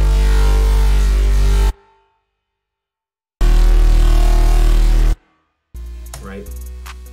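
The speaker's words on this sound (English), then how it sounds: "when you layer those two together, it sounds like this" Two synth basses layered together in a trap beat play thick and loud with a booming low end, sounding in two long bursts separated by silence, followed by a quieter, brighter melodic passage.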